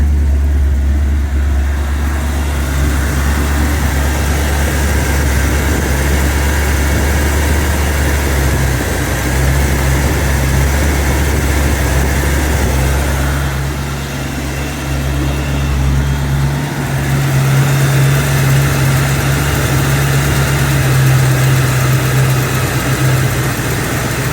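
An MGB sports car engine idles too fast, holding a steady, loud, close drone with a low hum that drops slightly in pitch midway before settling again.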